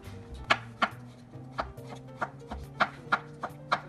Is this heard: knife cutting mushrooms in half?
yes